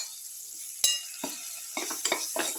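A spoon stirs a garlic, coconut and tomato mixture in a pan, giving several close scraping and clinking strokes, one sharp knock, and a faint sizzle underneath, with no talk.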